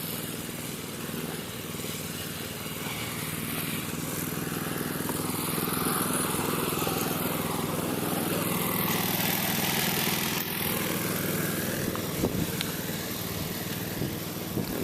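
A neighbour's lawn mower drones outside in the afternoon, a continuous steady engine hum heard from a distance, with faint passing noises and no voices.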